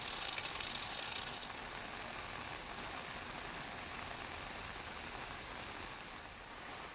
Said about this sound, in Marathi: गुहागरमध्ये देखील मुसळधार पाऊस कोसळतो आणि त्यामुळे शहरातील रस्त्यांवर मोठ्या प्रमाणात पाणी साचलेलं आहे.